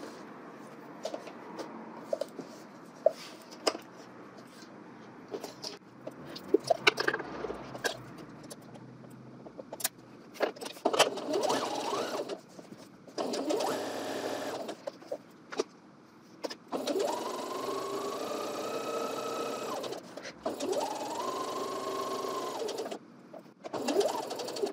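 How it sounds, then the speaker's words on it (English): Home sewing machine stitching a garment seam with a 5/8 inch allowance, bursts of whirring motor separated by pauses, close and fairly quiet with small handling clicks between runs. "I'm gonna do this for both sides and then take that to the sewing machine."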